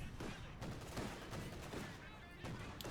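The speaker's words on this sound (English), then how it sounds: "Flak Panzer taking into with his 37mm flak cannon." A Flak Panzer's 37mm flak cannon firing in the WWII strategy game Company of Heroes 2, rapid bursts of gunfire repeating through the clip amid other battle sounds, with faint commentary mixed underneath.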